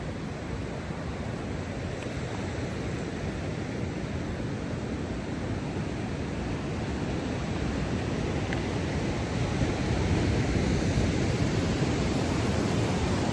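Ocean surf washes onto a beach in a steady, loud broadband roar, with constant wind buffeting the microphone and a slight swell toward the end.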